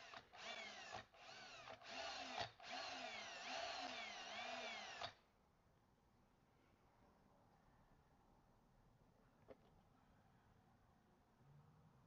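A power drill with a regular drill bit whirs in several short bursts and then a longer steady run, loud and close, before stopping abruptly into quiet room tone in a locksmith's workshop.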